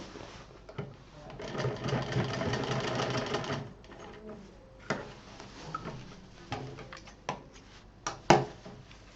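Sewing machine double-stitching fabric runs in a fast rattling burst for a few seconds, then stops, followed by scattered clicks and knocks of handling fabric and parts.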